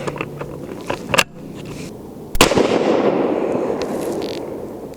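Two sharp, loud reports from a Ruger American Predator Gen II bolt-action rifle in .223 Remington firing 53-grain Hornady V-Max loads at a range, each crack followed by a long rolling echo that fades slowly.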